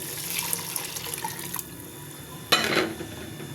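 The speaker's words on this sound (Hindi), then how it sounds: "अब इसमें जो यखनी थी वो डाल देते हैं।" Yakhni stock is poured into a pan of fried vegetables: a steady watery hiss gives way to a sudden louder splash and gush of liquid near the end, close by.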